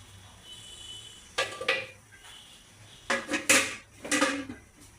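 A metal lid is set onto a cooking pot of hilsa fish curry with stalks in a home kitchen, heard as several sharp clanks and clatters in two clusters, close and fairly loud over quiet background.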